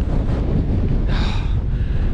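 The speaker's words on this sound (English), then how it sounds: "Jesus Christ, it's windy, but we're just going up there." Strong wind buffets the microphone near a mountain summit in Snowdonia, a loud continuous roar with gusty surges throughout and no voices.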